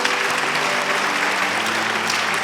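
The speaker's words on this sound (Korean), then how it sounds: "우리 다시 한번 다 함께 큰 박수를 보내드리도록 하겠습니다" A church congregation at a Sunday retirement and ordination service applauding loudly, sustained dense clapping throughout with faint tonal hum underneath.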